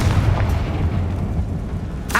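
Heavy low rumbling burst from a Confringo fire curse in Hogwarts Legacy, sustained through the whole stretch with a sharper crackle near the end, loud and without any talk over it.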